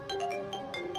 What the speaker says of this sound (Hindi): तभी उसका फोन बज उठा।